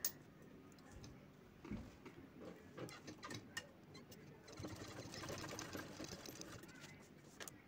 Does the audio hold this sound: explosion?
no